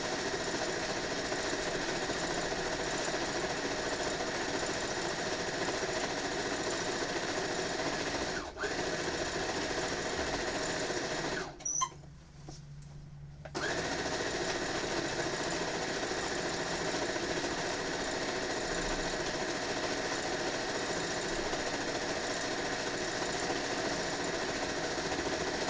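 A sewing machine runs fast and steady while stitching a large quilt, a close, even mechanical whirr that drops briefly, halts for about two seconds, then resumes at the same rapid pace.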